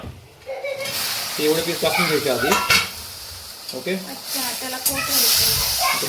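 Paneer pieces frying in a pan with chili sauce and masala, stirred and turned, giving a steady sizzle with scraping stirs while someone talks over it throughout.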